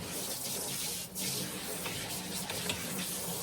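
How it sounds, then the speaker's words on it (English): Tap water running steadily onto a doll to rinse the soap off, a continuous close rushing splash of a faucet over a sink with slight shifts as the doll moves under the stream. "Now I'm just going to go ahead and make sure I get all of"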